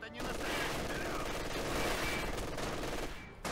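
Machine gun fire in the Company of Heroes 2 strategy game, a Soviet mission at Lublin, sustained rapid bursts forming a continuous loud rattle for about three seconds before cutting off.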